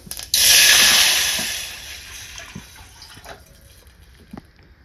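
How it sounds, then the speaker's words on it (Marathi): Water poured into a hot pan of oil with crackling cumin seeds bursts into a loud, close hiss that slowly fades over a couple of seconds into quieter bubbling, with a few scattered clicks and pops. "आता यात थोडंसं मी पाणी वतून घेते।"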